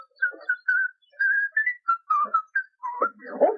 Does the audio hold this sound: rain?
no